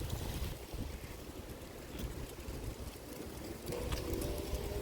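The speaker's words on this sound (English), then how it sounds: "Can't believe how windy it is." Strong wind buffets the microphone in a steady, loud roar on an afternoon walk with dogs before rain, rising in gusts through the clip with no talking.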